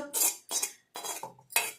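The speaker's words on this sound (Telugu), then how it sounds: "ఇది వచ్చి నేను ఒక మిక్సీ జార్లో మార్చుకుంటాను." Four short bursts of dry tea powder hair pack tipped into a mixer jar, each a gritty rattling pour against the jar, close and distinct with brief pauses between.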